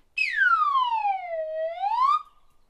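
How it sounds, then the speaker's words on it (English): A penny whistle sounds one sustained, breathy note that swoops downward in pitch, then bends back up before stopping abruptly, played close and clear with no other sounds. "This might be called a penny whistle or some kind of whistle"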